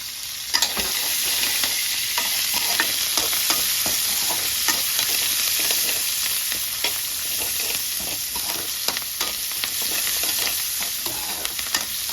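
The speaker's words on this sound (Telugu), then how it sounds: "ఆనియన్స్ పచ్చిమిర్చి కరేపాకు కానీ కలిపేస్తున్నాను నేను" Onions, green chillies and curry leaves stir-fry in hot oil with a steady, close sizzle and frequent scraping strokes of a spatula against the pan, continuous throughout with no talking.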